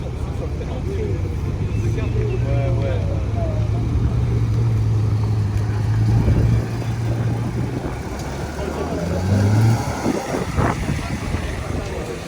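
A Porsche GT3 engine drones steadily nearby with a sustained low hum and a gradual rise in pitch, while people talk over it throughout.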